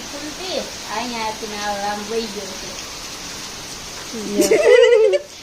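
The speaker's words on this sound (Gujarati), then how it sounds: "અહીંયા આવે છે ફૂલ વરસાદ" Heavy rain pours down as a dense, steady hiss that swells louder near the end, with people talking over it.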